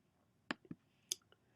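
A few sharp, quiet clicks from a computer mouse, three or four isolated taps spaced irregularly over a second and a half against a near-silent room.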